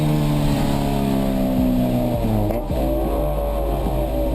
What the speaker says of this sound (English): This car too passes with no issue